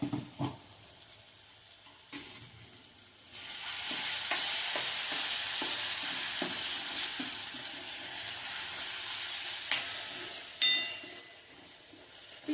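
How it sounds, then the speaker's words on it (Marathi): Ground spice paste sizzles loudly as it is stir-fried in a clay kadhai for a village-style pavta usal, a steady close hiss with a few sharp scrapes and knocks of the spoon. "हे वाटण छान परतून घ्यायचे"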